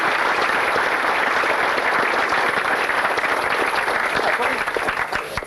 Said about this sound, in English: ladies and gentlemen, certainly deserves your applause.